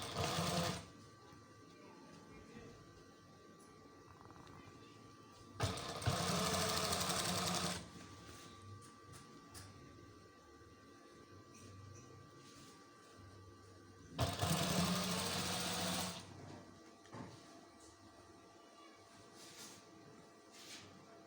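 A sewing machine runs in two short bursts of stitching along a neckline on a garment, each lasting a couple of seconds and separated by quiet handling, heard close and fairly loud.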